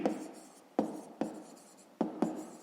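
A pen scratches across paper in short strokes, five quick bursts with brief pauses, close and quiet, while maths exercises are worked in a notebook.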